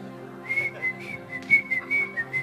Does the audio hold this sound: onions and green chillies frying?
no